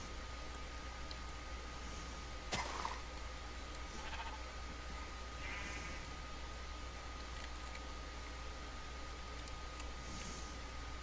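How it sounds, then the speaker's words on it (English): Sheep bleat in a blocky survival video game, a few faint, brief calls scattered over a steady background hiss, with no talk. "Some nice sheep."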